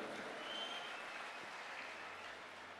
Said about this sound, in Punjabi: ਇੱਕ ਵਾਰ ਜ਼ੋਰਦਾਰ ਤਾੜੀਆਂ ਉਹਨਾਂ ਲਈ ਚਾਹੀਦੀਆਂ